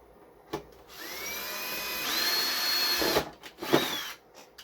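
A power drill widens bolt holes during construction of a replacement habitat module, whining up in bursts from about one to three seconds and again briefly near the end, loud and close, with no talk.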